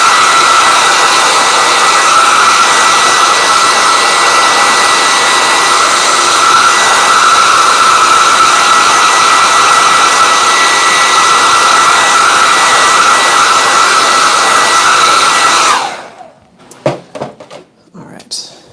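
A hair dryer runs steadily and loudly on a sketchbook page to dry paint, a constant blowing whir for about fifteen seconds before it switches off, leaving a few faint handling knocks.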